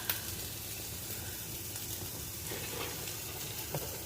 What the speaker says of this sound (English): I've got my sausage cooking